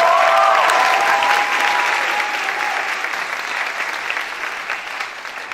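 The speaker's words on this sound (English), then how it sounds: "We give them a round of applause in the last year." Jazz concert audience applauding, a loud burst of clapping that starts strong and slowly thins and fades over several seconds, with a brief whistle near the start and no speech.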